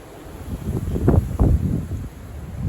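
Strong west-northwest storm gusts around 70 km/h buffet the microphone in a close, low rumbling roar, swelling and peaking in two surges mid-clip over a steady windy background, with no voices.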